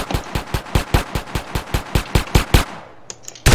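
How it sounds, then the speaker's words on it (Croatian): Rapid automatic gunfire in the GTA San Andreas Multiplayer game, a burst of about fifteen evenly spaced sharp shots, followed by a short pause, a few small clicks and another loud blast at the end. "Odakle me puca, ja te ne vidim."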